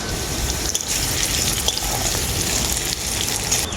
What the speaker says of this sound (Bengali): আলুটা খুব ভালো করে ভাজা হয়ে গেছে এখন আমি তুলে নেব